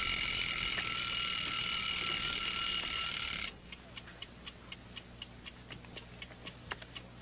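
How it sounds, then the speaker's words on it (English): An alarm clock rings loudly and continuously for about three and a half seconds, then stops abruptly, leaving a soft, steady ticking in a quiet room. "The alarm just went off, Bert."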